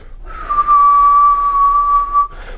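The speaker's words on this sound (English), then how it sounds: "This is Khoomei, where the tongue is free and floating." A single sustained Khoomei throat-sung tone with a piercing, whistle-like overtone held steady for about two seconds, close and loud.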